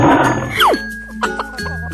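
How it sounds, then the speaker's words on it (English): A cartoon tiger gives a short, loud roar, followed by a descending chime and light jingling over a soft musical bed. "Tiger."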